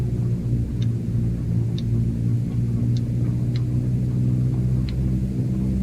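A Cessna 152 engine runs up at increased RPM, a loud, steady low droning hum with strong harmonics from the cockpit, broken by a few faint high clicks.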